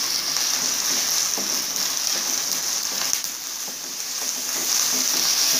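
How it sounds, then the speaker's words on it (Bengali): Spice paste for beef curry sizzles in hot oil in a pan, a constant bright crackling hiss with occasional stirring clicks, close and alone. "হালকা লাল বর্ণ করে আমি মশলাটাকে ভেজে নিব।"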